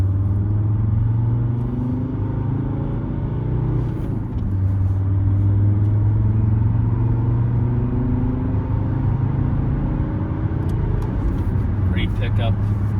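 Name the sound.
1997 Mercedes W210 E290 turbodiesel car driving on road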